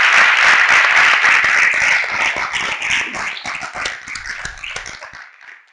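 Applause from a conference audience, loud at first and then gradually thinning out and fading, with no talk.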